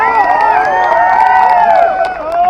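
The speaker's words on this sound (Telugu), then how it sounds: "ఆయనకి మనందరం కూడా చప్పట్లతో ఆయన ఎంకరేజ్ చేయాలి" A crowd at a Telugu Desam Party BC rally in Kaikaluru cheers and shouts continuously, with whoops and excited voices rising and falling in a dense, loud wash of sound.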